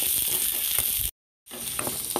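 Ginger, garlic and onion frying in a kadai, a constant close sizzle with light stirring clicks, broken by a brief silent gap partway through.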